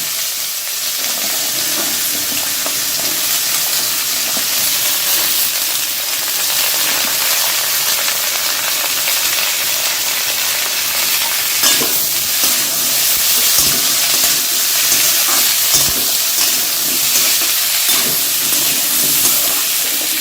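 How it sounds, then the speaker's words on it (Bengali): Carrots frying in a pan for navratan korma, a steady close sizzle with scattered clicks and scrapes of stirring running throughout, no talking. "এরপরে আমি দিয়ে দিচ্ছি গাজরগুলো গাজরটা দু তিনবার নাড়ার পরে আমি দিয়ে দেবো বিনসটা"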